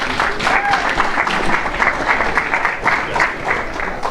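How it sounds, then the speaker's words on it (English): A round of applause from an audience at an evening talk event, many hands clapping in a dense, lively burst throughout, fairly close and loud with scattered voices mixed in. "So let's give him a round of applause and get ready for this."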